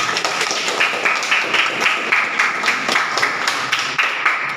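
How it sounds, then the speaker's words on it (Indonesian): A classroom of pupils claps together during an Islamic creed lesson, a dense and steady patter of many hands lasting throughout, fairly close and without a break. "Betul, tepuk tangan."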